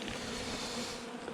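Honeybees feeding on sugar candy at an apiary on a sunny mid-December day, giving a close, steady droning buzz that holds evenly throughout.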